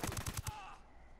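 A rapid burst of about five sharp gunshots in the video game Ghost Recon Wildlands in quick succession, loud and close, followed by a fading ringing tail.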